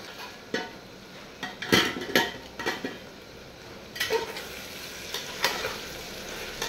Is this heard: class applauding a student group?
no